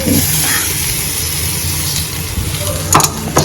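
Cooked rice tipped from a bowl into a hot frying pan for Indian egg rice, giving a steady loud sizzle with a couple of sharp scraping clatters near the end as it is mixed.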